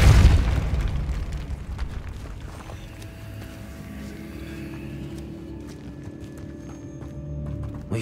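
A Depulso spell cast in the video game Hogwarts Legacy lands as a loud, booming burst at the start, then fades into a low rumbling magical ambience that lingers with soft crackles.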